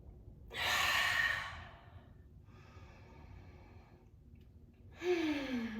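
Slow, audible breaths during a seated yoga twist: a long airy exhale, a softer drawn breath after a pause, then another breath, close and alone without speech.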